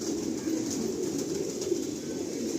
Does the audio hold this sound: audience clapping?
no